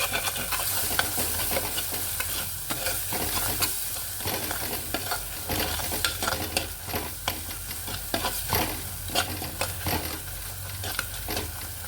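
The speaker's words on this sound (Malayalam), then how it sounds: "ഇനി നമുക്ക് നന്നായി ഇളക്കി കൊടുക്കണം." Onions with salt, chili powder and turmeric stirred in a sizzling pan, steady frying hiss broken by repeated scraping and clattering strokes of a spoon, close and continuous, with no voices.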